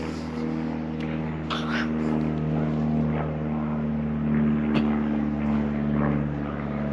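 A propeller plane drones steadily overhead, a constant low engine hum that persists throughout, with faint rustles on top.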